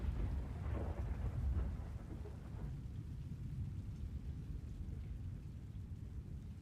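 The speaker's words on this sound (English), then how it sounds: "Oh no, it's still hailing just a little bit." Storm ambience from the video game Twisted: a steady low rumble of thunder and rain, heaviest in the first two seconds, then a continuous softer wash of hail and rain with no voices.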